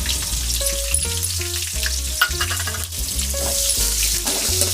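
Chopped onion fries in hot oil with peanuts and chana dal for coriander rice, a loud, close, continuous sizzle under stirring, with faint tonal background sounds and no talking.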